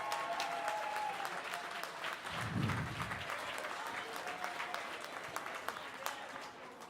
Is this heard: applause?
yes